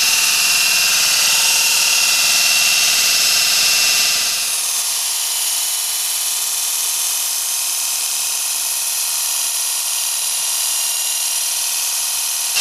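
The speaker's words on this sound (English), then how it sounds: "So I'm going to start whisking this, putting this in as you blend." An electric mixer whirs loudly through cake batter with mayo added, a dense steady buzz that drops to a lower, quieter tone partway through, close and continuous with no talk.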